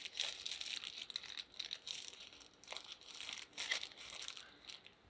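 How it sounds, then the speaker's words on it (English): A plastic sandwich bag being filled and handled, with close, quiet crinkling and rustling in irregular bursts and no talking. "I'm just going to put the mixture into a sandwich bag"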